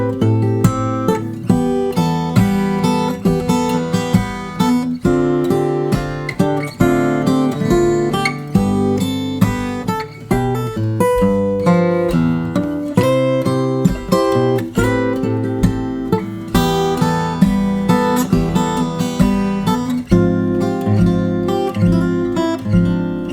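Acoustic guitar played fingerstyle, an arrangement of a song, plucked notes and bass line picked out in a steady, rhythmic pattern, close and clear with no talking.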